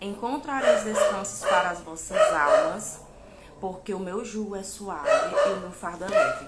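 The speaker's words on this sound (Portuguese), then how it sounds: "Se você estiver ouvindo um cachorro latindo, é porque você tá ouvindo direito." A dog barks several times in the background while a person reads aloud in Portuguese, the barking partly buried under the steady speech.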